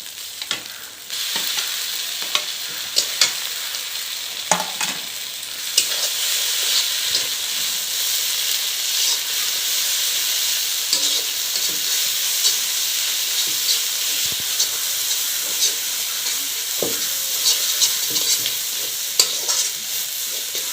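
Marinated chicken with ginger garlic paste fries in a pan, a continuous bright, loud sizzle with steamy hiss, punctuated by scattered spoon scrapes and taps over a long stretch.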